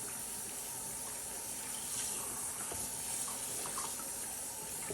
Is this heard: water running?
yes